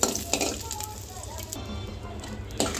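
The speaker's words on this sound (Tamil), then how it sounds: "அதே பேனில் ஒரு 5-6 பல்லு பூண்டை கொஞ்சமாக எண்ணெய் விட்டு நல்லா பொரிச்சு எடுத்துக்கணும்" Garlic cloves fry in a little oil in a pan with a steady sizzling crackle, broken by a few sharp utensil clinks and scrapes at the start and end, close by.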